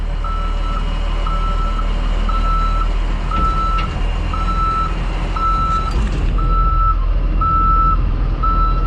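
A RAM 3500 Cummins truck backs up, its reversing alarm beeping in a regular loud, evenly spaced pattern over a steady low diesel engine rumble, with no talk.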